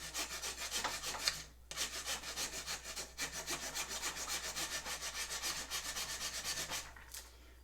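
Hand file rasping back and forth across a wooden recurve bow riser grip, steady rhythmic strokes close up, with a brief pause partway through and no talking.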